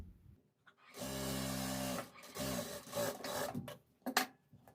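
A sewing machine runs over a lace seam on a baju, its motor whirring steadily for about a second, then starting again in shorter bursts of stitching with small clicks and pauses between runs.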